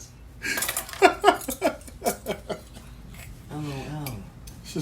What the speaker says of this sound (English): I'm going to be washing the dishes with my father.